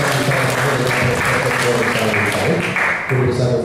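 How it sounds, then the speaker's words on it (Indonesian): Audience applause for a speaker at an Indonesian panel discussion, a dense, steady clapping from a crowd that fills the whole stretch at full strength, with a brief dip near the end before it swells again. "Kita beri aplaus kepada Pak pembicara juga."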